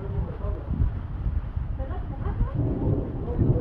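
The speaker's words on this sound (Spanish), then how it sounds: "Oigan los truenos." Deep thunder rolls in a continuous low rumble, mixed with a rainy hiss, fairly close and steady throughout.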